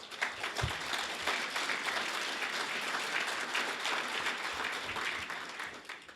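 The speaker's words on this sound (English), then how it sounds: "so I appreciate the applause" Sustained applause from a dinner audience at an annual event, dense steady clapping filling the room for several seconds with no speech over it.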